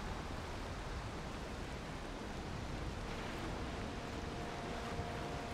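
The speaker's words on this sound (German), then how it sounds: "Es ist echt immer übel, der Wind." Wind roaring steadily over open sea while sailing a ship in Valheim, a dense, even rush of broadband noise with no gusts or breaks, moderately quiet and uninterrupted by talk.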